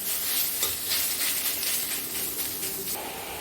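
Mashed chhena being stirred in a hot kadai for sandesh, giving a steady close scraping stir with a soft sizzle underneath that runs continuously without pause.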